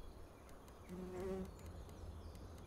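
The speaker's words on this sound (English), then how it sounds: "I heard a bee." A bee buzzes briefly, swelling louder for a moment then fading, over a quiet background with soft clicks.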